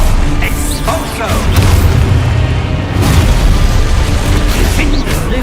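Exposo explosion spell cast in a video game, a loud close booming burst with rumbling debris and mechanical clatter that fills the whole stretch, with spell effects layered on top.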